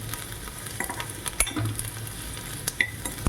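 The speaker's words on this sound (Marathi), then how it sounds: "थोडंसं तेल टाकलेलं आहे। पहा कांदा छान गोल्डन ब्राऊन होत आहे।" Onion frying in a little oil over a medium flame until golden brown, a close sizzle broken by several sharp clinks and scrapes of a spoon against the pan.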